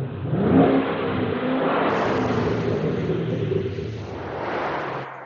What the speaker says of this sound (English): installed an aftermarket exhaust system just so you could hear the V8 roar